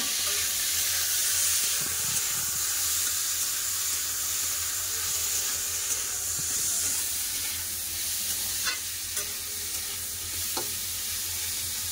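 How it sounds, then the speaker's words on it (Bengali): Potatoes and long beans fry in hot oil in a wok, a loud continuous sizzle with a few scraping stirs and clinks near the middle and later, and no talking. "তেল গরম হয়ে গেছে, আলু বরবটিটা দিয়ে দেবো।"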